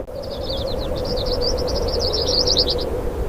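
A desert bird gives a long, rapid series of high chirping notes close by, repeated steadily for about three seconds over a faint background hum.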